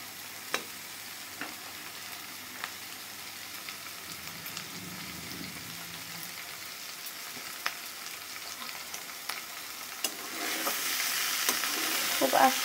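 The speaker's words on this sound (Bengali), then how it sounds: "খুব আস্তে আস্তে মাছগুলো ভেজে নিতে হবে।" Rohu fish pieces fry slowly in oil with a soft, continuous sizzle, punctuated by occasional sharp taps and clinks from turning. The frying swells louder near the end.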